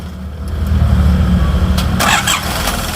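A Nissan Urvan van's engine cranks and catches, with sharp bursts of starter and ignition noise over a low mechanical rumble, close by, during a fault diagnosis at a repair job.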